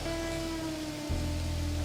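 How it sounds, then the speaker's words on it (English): Heavy monsoon rain pours down steadily during an Alberta elk bow hunt, a dense continuous hiss with a low rumble that deepens partway through, no talk. "That rain is coming down."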